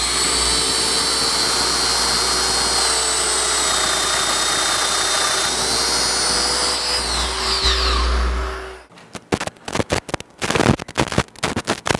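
Domino joiner cutting mortises in wood for a bed frame, a loud steady high-pitched whine for about nine seconds that stops abruptly, followed by sharp clattering knocks and handling noises.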